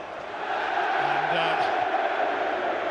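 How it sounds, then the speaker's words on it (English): Newcastle United supporters at the League Cup final stadium raise a broad, steady roar of cheering, with a commentator talking over it. "the cheer from the Newcastle fans is because Alan Shearer's image is also on the big screen inside the stadium"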